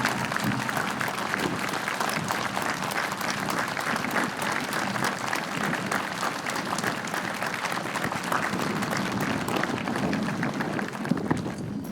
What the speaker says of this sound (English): But let's give Ariel a round of applause for that national anthem